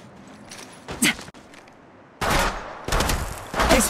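Gunfire in the mobile battle royale game Apex Legends, with a short burst, a pause, then several loud rapid bursts of automatic fire close by.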